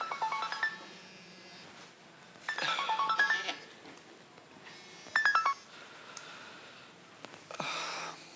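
Phone keypad dialing tones in three quick bursts of descending beeps, spaced a few seconds apart, followed by a short ring-like tone, fairly quiet and with no talking.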